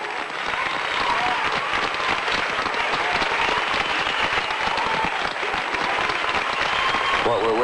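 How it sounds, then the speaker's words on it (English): Loud, sustained cheering and applause from a crowded mission control room during the Apollo moon landing, dense clapping and voices filling the whole stretch without a break. "There's a cheer in this room."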